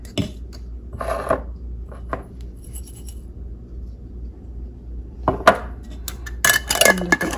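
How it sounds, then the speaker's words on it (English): A lid is set onto a small jar of freshly ground dried chocolate bell pepper spice, giving a few light clinks and taps of glass and metal, close up and quiet, with soft handling noises between and no talk. "And put the lid on it."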